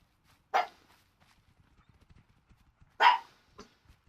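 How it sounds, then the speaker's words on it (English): A pet dog barking in the background of a room, two short sharp barks a few seconds apart followed by a softer yelp, with faint tapping in between. "if you can hear my dog in the background."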